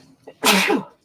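A single loud, close sneeze bursts out after a brief quiet breath, a sharp noisy blast that trails off within half a second.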